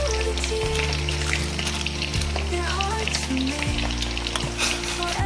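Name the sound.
chicken frying in oil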